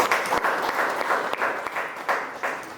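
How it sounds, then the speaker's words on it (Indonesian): Dense applause from a university class audience, steady clapping filling the whole stretch without a break, fairly close and with no one speaking over it. "Tepuk tangan untuk Billy."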